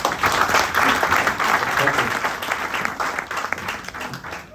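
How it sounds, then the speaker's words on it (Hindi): Audience applause at a start-up inaugural ceremony for an academy, a dense, steady round of clapping, fairly loud throughout and tapering slightly toward the end, with some voices mixed in. "तो एक बार जोरदार तालियों के साथ"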